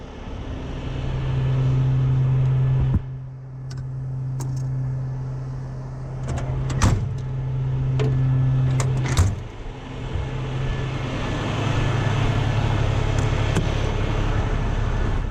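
A water truck being towed with its driveline removed and brakes backed off, a steady low engine drone with hum rising and falling, a few brief clanks and thumps, no talk.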